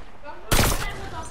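A single burst of gunfire in a battle royale video game during a duo squads match, sharp and loud, then fading within a fraction of a second.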